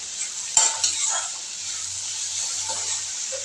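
Bitter gourd with salt is stirred in a hot pan, a steady sizzle under a couple of sharp spoon scrapes near the start, quiet and close with no talking.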